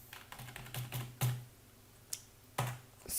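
Keys on a computer keyboard clack as a spreadsheet formula is typed, a sparse run of close, sharp taps with short pauses between them.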